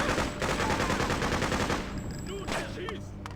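Rapid Soviet machine gun bursts from the video game Freedom Fighters, dense and loud through the first seconds, then tapering into scattered shots and game effects with faint talk underneath.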